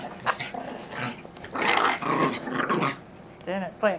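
Six-week-old puggle puppies growl and yip while playing rough, with small snarls and scuffling close by, under a person talking.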